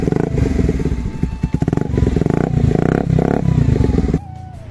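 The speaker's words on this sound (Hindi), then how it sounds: "अभी आप एग्जॉस्ट नोट सुनो" Modified Bajaj Pulsar 125 motorcycle exhaust, close and loud, blipping and revving in rough pulses with crackle and clatter, then settling to a lower idle near the end; no talking.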